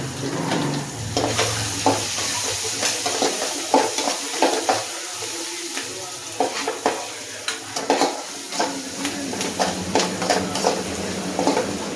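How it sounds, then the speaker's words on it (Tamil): Onion and curry leaves sauté in hot oil in a pan, a continuous close sizzle broken by frequent spoon scrapes and light clinks of stirring, with the frying swelling and easing over several seconds. "கொஞ்சம் வெங்காயம், கறிவேப்பிலை இதெல்லாம் சேர்த்து இப்போ வதங்க விடலாம்"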